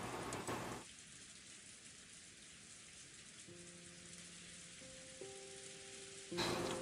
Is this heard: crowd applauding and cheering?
no